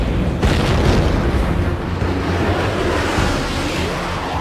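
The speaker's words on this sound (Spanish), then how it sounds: "Escuchamos los proyectiles golpear." Heavy booming impacts of artillery shells striking the battleship Bismarck in 1941 rumble over a dense, roaring low-end din, with a sharp burst near the start and continuous thunderous noise.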